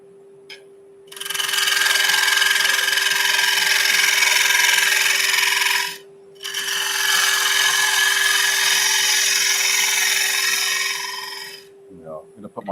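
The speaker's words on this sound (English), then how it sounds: "Turn the lathe on." A wood lathe turns a wooden egg while a bowl gouge cuts it, making two long, loud, close stretches of rough scraping and hissing over a steady motor hum, with a short pause between them.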